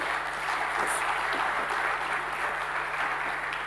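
An audience at a sustainable dairy conference session claps to welcome the session chair: a steady, dense wash of applause that holds at an even level throughout, with a faint constant hum beneath.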